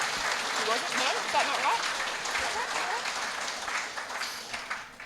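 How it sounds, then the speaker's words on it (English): Applause from the crowd at a regional sports awards night, a moderate wash of clapping that fades toward the end, with people chattering and a presenter talking over it. "Yeah, round of applause."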